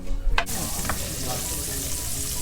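Onions hitting about two tablespoons of olive oil in a preheated pan, a sharp clatter at the start, then a continuous close sizzle for the rest, with no talking.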